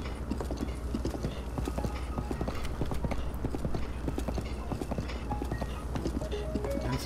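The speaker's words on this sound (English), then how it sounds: "A good fast horse like you." A fast horse in Zelda: Breath of the Wild gallops, its hooves clip-clopping in a quick steady rhythm close by, with a brief whinny and no talk over it.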